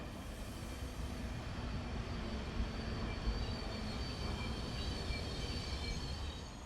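An Al Boraq high-speed train arriving in Morocco from Casablanca gives a continuous, fairly faint rushing roar that stays even and unbroken, with no voices.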